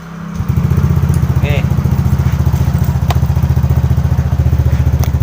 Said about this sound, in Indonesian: Kita aktifkan remote-nya dulu, hidup, dan kita coba starter.